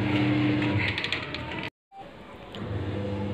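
A washing machine churns clothes, a steady mechanical whir and rattling gear noise that briefly drops out before resuming at the same level.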